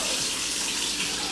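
Water from a tap gushes steadily and loudly, close by, measured out for a recipe; a continuous rushing flow with no talking over it.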